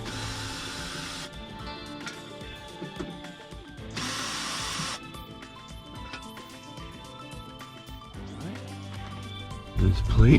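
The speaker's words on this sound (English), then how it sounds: "we remove these screws right here" Power drill backing out the screws on the fuel pump access cover of an NA Mazda Miata, several short whirring bursts close up with pauses between, and a voice talking over parts of it.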